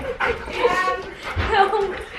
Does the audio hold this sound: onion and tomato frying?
no